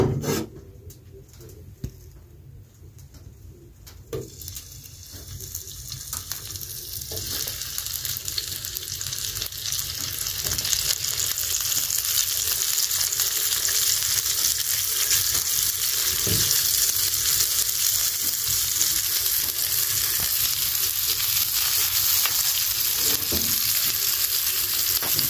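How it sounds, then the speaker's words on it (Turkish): Sivas köfte meatballs cook in a pan with very little oil, starting quiet and swelling after several seconds into a loud, dense, continuous sizzle that holds steady to the end. "yapmış olduğum Sivas köfteleri tavada pişireceğim sizler için"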